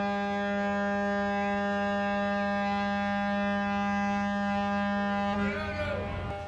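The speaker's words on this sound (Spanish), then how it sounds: "Sonata de sirenas en el puerto de Valparaíso, en Chile" Ship and port sirens sound together at the harbour of Valparaíso, Chile, a sustained loud chord of steady horn tones that holds for several seconds, then shifts into a wavering rise near the end, with no speech.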